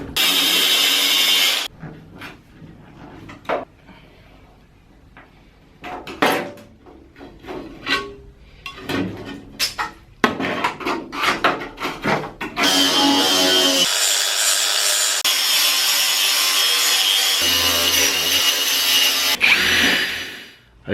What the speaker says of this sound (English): I've done that using a 60 grit flap disc and the angle grinder